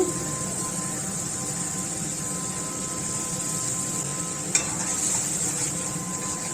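Ground onion and tomato paste fry in a pan with a faint, steady low sizzle, broken by one brief clink of a utensil toward the end.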